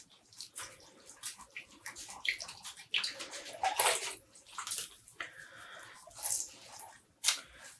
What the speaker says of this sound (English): Always make sure to rinse the zip ties as well